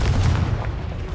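A deep, rumbling blast from the Confringo fire spell in Hogwarts Legacy, one loud low boom that fades quickly.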